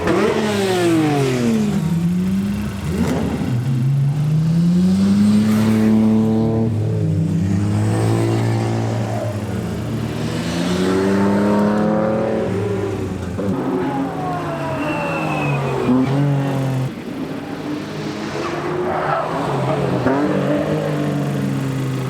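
Race cars at a Tsukuba time attack event, near the end of a morning super lap session, rev and accelerate through the gears with rising, sweeping engine tones. The engines are loud and fairly close and keep going without a break.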